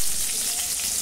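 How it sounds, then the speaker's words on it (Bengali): Pieces of rohu fish fry in hot oil in a pan, giving a dense, even sizzle that holds steady through a brief moment with no speech. "মাছগুলোকে এইভাবে ভাজতে দিয়েছি,"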